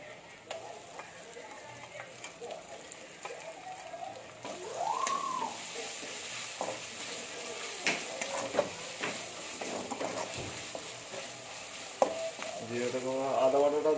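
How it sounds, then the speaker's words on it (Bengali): Cumin paste sizzling in a pan after fried onions, for a Bengali masoor dal with cauliflower, potato and beans, a steady close-up sizzle with scattered ticks and scraping stirs, growing louder toward the end. "আদা জিরেটাকে ভালো করে ভেজে নেবো।"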